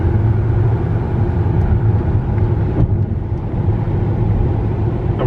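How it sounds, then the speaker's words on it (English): A car drives out of town near Greenwood, Texas, heard from inside as a steady, loud low rumble of engine and road noise with no breaks. "So we're driving out of town here outside Greenwood to go to the racetrack"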